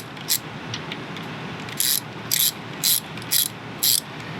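A ratchet works a bolt on an Ecotec 1.4 engine, giving a series of short, crisp clicking bursts in an uneven rhythm, close and clear over a quiet background.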